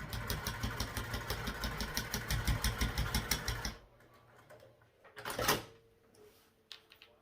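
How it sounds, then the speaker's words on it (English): A sewing machine runs a fast, even stitching rhythm across a 3/8 inch seam for about four seconds, then stops, leaving quiet handling rustles and a brief louder fabric shuffle. "Now we just want to sew across at a 3/8 inch seam allowance, and then we'll top stitch."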